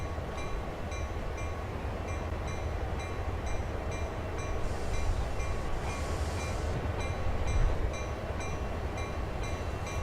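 A train rumbles along steadily in a train video game, a continuous moderate rolling drone with faint periodic clicks and no talking.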